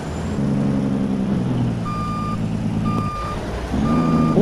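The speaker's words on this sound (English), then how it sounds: "on this server, this truck, that tractor over there as well, we've got some noisy equipment." Truck reversing alarm in a wilderness survival video game, steady high beeps repeating at a slow even rhythm, over a loud continuous diesel engine rumble with other noisy farm equipment such as a tractor nearby.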